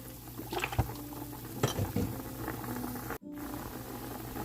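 Beef meatballs simmering in broth for Vietnamese rice noodles, a soft steady bubbling with a few clinks of a pot or utensil.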